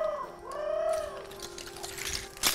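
An owl calls at night inside an abandoned hotel, giving soft, hooting coos that swoop in pitch at moderate distance, followed by scattered rustles and a sharp clatter at the end.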